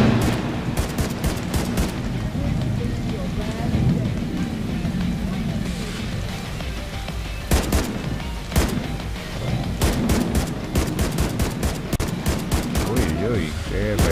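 Semi-automatic CR rifle fired in a video game, heard as sharp single shots in quick bursts, loud and close, with a steady ambient bed underneath.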